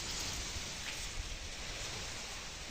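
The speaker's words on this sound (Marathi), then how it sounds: "पाऊस पण झिरझिर झिरझिर मध्ये मध्येच येतोय." Light drizzle falls outdoors on a farm where onion fields are being watered, giving a soft, continuous hiss of fine rain with no voices.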